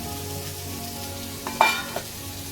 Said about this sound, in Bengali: উচ্ছে ভাজা বসিয়েছি